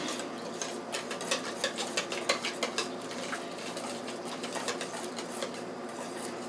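Basil being stirred into tomato sauce for stuffed peppers, with a spoon clinking and scraping against a pot in a quick run of close taps that thin out toward the end.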